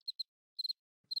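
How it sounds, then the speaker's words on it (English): Crickets chirp in short, crisp bursts of two or three pulses, separated by silence, thin and clean with no other sound. "Just crickets and silence."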